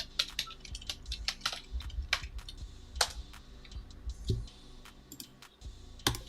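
Someone types on a computer keyboard in quick, irregular bursts of light clicks with short pauses between them. It sounds close but fairly quiet, and a soft low thud breaks in partway through. No one speaks.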